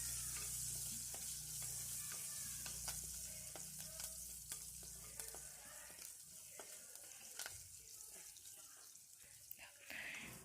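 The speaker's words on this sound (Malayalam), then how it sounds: "ഇനി ഞാൻ ഒരു തണ്ട് കരിവേപ്പില ഇട്ട് കൊടുക്കുന്നുണ്ട്." Curry leaves crackle and sizzle in hot oil in a home kitchen pan, a steady bright frying hiss with scattered sharp pops and a low hum fading out partway through, no talking.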